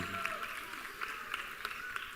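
Audience applause at a water and sustainable development panel, with steady clapping and some cheering as a panelist is introduced, moderately loud and continuous.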